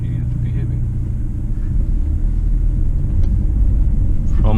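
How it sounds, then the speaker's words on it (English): A BMW F30 320i LCI engine idles and runs steadily after a spark plug change, a close, low, even rumble that holds steady throughout, with no talking over it. "I'm gonna turn off auto start stop and let the car run"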